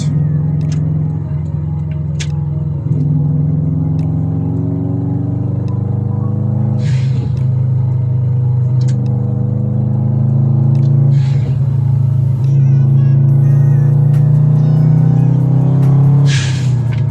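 A Subaru WRX engine warms up after a spark plug change, running steadily with a deep, constant drone, its pitch shifting slightly over time, with a few faint clicks and light knocks.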